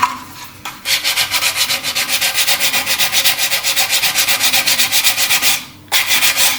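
Sanding down a Dalek model by hand, a steady rhythmic back-and-forth rasp of strokes, close and loud, with one short pause near the end.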